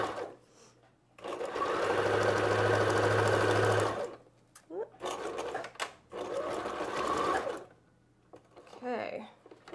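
A sewing machine stitches a cloth diaper in two longer loud bursts and a few short runs, stopping and starting between them.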